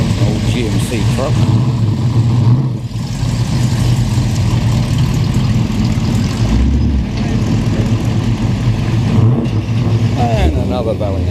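A truck pulls into a Coffee and Cars show with a continuous engine rumble, passing close by over a busy backdrop of other vehicles idling and people talking.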